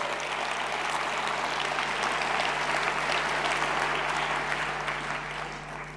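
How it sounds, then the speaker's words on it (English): Audience at a corporate awards presentation giving a big round of applause for category winners, a dense continuous clapping roar under a steady low hum, tapering slightly at the end. "So can we hear one big round of applause for our category winners?"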